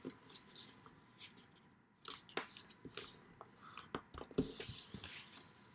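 A sheet of paper is creased and folded into a paper airplane, giving quiet, scattered crinkles and sharp rustling taps that come in short bursts, closer and louder toward the end.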